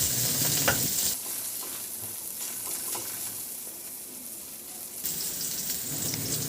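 Garlic and ginger sauté in hot oil in a pan, giving a steady bright sizzle with the rustle and scrape of stirring all through. The sizzle drops in loudness after about a second and swells again near the end.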